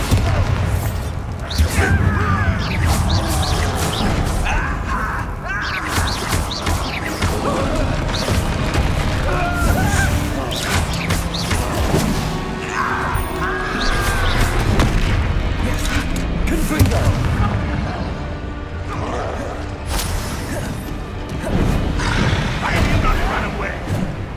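Repeated heavy blasts and crashing impacts from the Bombarda spell in Hogwarts Legacy on PS5, loud and dense with booming hits layered over game effects and occasional voices.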